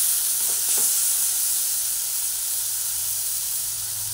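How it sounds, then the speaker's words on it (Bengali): Spices and tomato fry in a pan for a pointed gourd curry while being stirred, giving a steady, close sizzle with a couple of soft stirring scrapes early on and no voices. "সব মশলা ভেজে নিচ্ছি"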